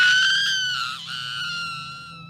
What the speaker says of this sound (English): she popped up to the surface, taking a huge breath, then screaming her lungs out